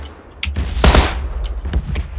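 Gunfire in PUBG Battlegrounds, with several separate shots cracking out across the clip and one heavier burst near the middle, fairly close and loud against steady game ambience, no talking.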